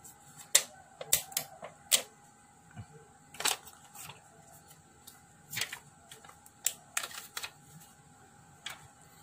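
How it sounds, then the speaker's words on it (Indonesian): Protective dust film is peeled off a replacement LCD for a Samsung J1 mini (J106) phone, making scattered sharp crackles and ticks at close range that arrive in irregular bursts over a quiet background. "Ini plastik pelindung debunya ini kita buka dulu."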